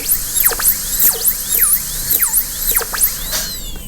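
High-pitched dental drill cutting depth cuts on a mandibular canine for a porcelain-fused-to-metal crown prep. It gives repeated short whining bursts that swoop up and down in pitch, close and loud, alone.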